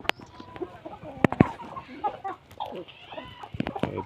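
Native breed chickens cluck on a farm yard, with sharp close clucks and short calls scattered over a busy background of other birds.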